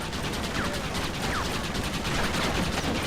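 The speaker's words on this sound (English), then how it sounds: "they're gonna get caught up in my Gatling gunfire" Rapid Gatling gunfire in Red Dead Redemption rattles continuously at close range as a dense, steady mechanical clatter with no pause, filling the whole moment.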